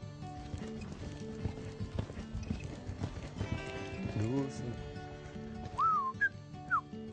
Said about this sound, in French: Ce matin, il monte Vélos, un cheval qu'il a intégré dans le spectacle cette année